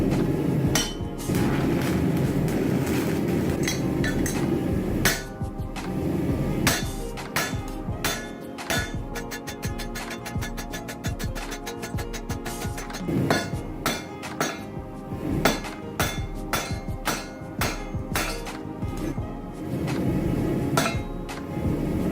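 Hammer blows on hot steel while forging a knife from leftover stock, a long series of sharp metallic strikes with ringing clinks, coming in rapid bursts and pauses, loud and close, no talking.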